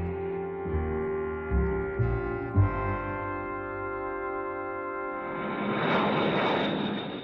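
Heavy B-52 bomber engines drone in a low, steady roar that swells into a broad rushing noise toward the end, heard alone without talk.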